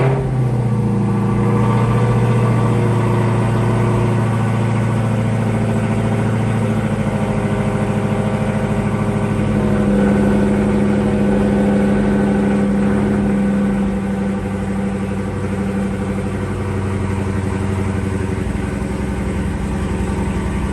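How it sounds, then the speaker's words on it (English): A Dodge Hellcat V8 engine, just started after an oil change, runs steadily at idle, a loud low rumble with a constant mechanical drone throughout, no voices. "Now we're gonna start it up and check the oil pressure."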